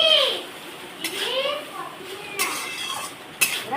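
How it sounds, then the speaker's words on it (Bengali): Cooked rice being stirred in a metal pan with a utensil while making fried rice, producing scraping strokes and a few ringing metallic clinks, close by in a home kitchen. "আর আমি আস্তে আস্তে একটু নাড়াচাড়া দেবো।"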